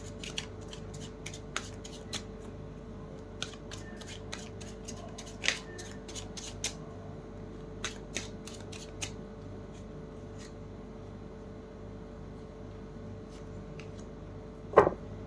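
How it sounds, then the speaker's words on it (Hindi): Tarot cards shuffled and drawn, a quiet run of light papery flicks and snaps scattered across a hushed room, with a sharper slap near the end. "एक बार लास्ट 2 कार्ड्स निकालती हूँ"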